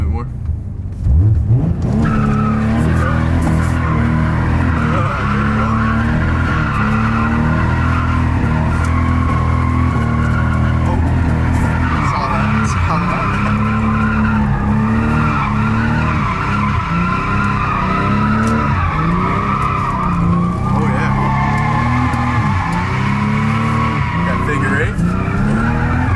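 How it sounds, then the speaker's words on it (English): A BMW E30 engine roars hard and continuously while its tires squeal and skid, loud and close for the whole stretch, with voices mixed under the noise. "You gotta rev it up a bit more"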